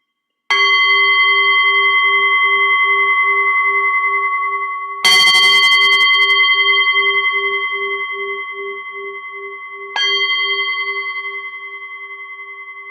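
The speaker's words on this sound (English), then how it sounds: "So now I'll just ring the bell and we can get started with our metta meditation." A meditation bell rings three times to open a metta meditation session, each strike a clear ringing tone with a long sustained, slowly fading decay, the strikes about five seconds apart and heard alone without talk.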